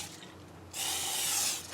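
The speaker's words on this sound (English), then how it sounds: "I'm just going to take a little furniture polish to this one." Furniture polish sprays from an aerosol can onto a guitar's maple fretboard: a quiet rubbing lead-in, then one sustained, close hiss lasting about a second, with no talking.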